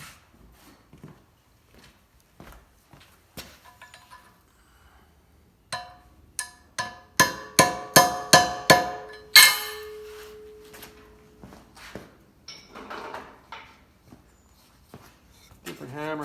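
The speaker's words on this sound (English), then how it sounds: "Different hammer, round face hammer." A hammer strikes metal while repairing a body mount on a 1950 Plymouth in a metal-shaping job. Sparse taps come first, then a run of loud, ringing blows in quick succession and a few scattered hits, with talk at times.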